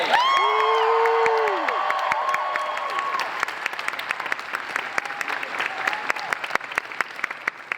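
A packed room of fans at a MegaCon fan convention panel bursts into loud applause, cheers and whoops, starting as a dense roar and settling into steady clapping.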